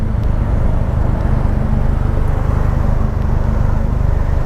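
A Polaris Slingshot sits stopped in neutral with its engine running, a steady, loud low rumble pulsing evenly throughout with no talk.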